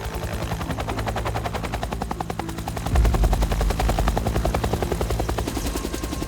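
A helicopter flying over a wildfire on firefighting duty, its steady rapid rotor thump loud and close throughout, swelling slightly as it passes nearer.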